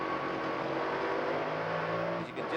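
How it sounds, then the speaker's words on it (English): Engine of an IMSA GTP prototype race car at the 1993 Mid-Ohio round, a steady loud drone with harmonic whine and gear clatter, running continuously for a couple of seconds with a slight dip near the end. "You can just hear the engine"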